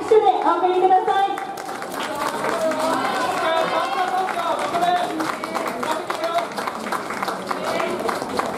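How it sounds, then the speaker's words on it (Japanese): Crowd at the Hamamatsu Auto race track claps and cheers steadily as the riders leave after a rice-cake pounding event, a dense continuous wash of applause with a voice over a loudspeaker at the start. "皆様盛大な拍手でお送りください。"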